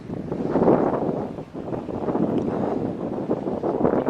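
Wind buffets a microphone during a bike ride, a loud continuous rumbling roar that surges and dips, with no voices over it.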